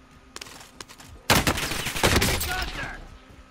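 Gunfire in Call of Duty Black Ops Cold War, with a few scattered shots that break into a loud, sustained fusillade of rapid automatic fire up close.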